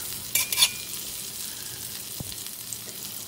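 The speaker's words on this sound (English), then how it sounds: "Allow the potatoes to start to get crispy again before we mix it back with our vegetables." Potatoes for curried potatoes sizzling in a hot pan, a steady close hiss with a couple of louder stirring scrapes near the start, no talking.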